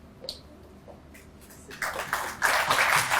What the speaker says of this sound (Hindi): जोरदार तालियां होती